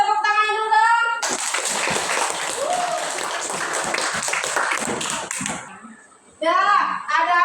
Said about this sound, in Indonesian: Untuk itu tepuk tangan dulu dong